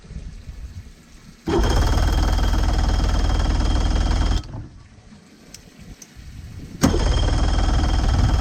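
A two-stroke engine with its spark disabled by the pulled lanyard is cranked over in two loud sustained bursts, a few seconds each with a pause between, churning mechanically without catching or running.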